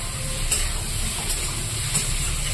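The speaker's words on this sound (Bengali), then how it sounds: "মশলাটা ভালোভাবে কষিয়ে নিয়েছি আমি" Spice masala frying in a pan, a steady broadband sizzle with faint stirring scrapes, close and continuous with no talk.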